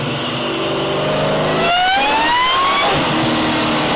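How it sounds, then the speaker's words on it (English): A 1994–2004 Ford SN95 Mustang V8 with Flowmaster exhaust revs hard up and back down, the loud, close engine note sweeping upward in one long rise before dropping back to a rough idle. "2 chambers and 3 chamber Flowmasters sound fantastic on the 2 valve motors"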